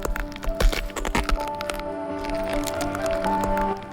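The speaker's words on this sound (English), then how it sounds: "hear the sound of a living creature turning to stone" Wet squishing and crackling sounds grind and creak together, with sustained tonal groans underneath, a dense, eerie texture of something hardening and splitting.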